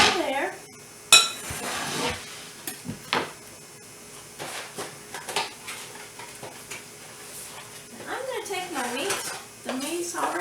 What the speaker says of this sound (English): Now I need to get my pasta in my pan over there.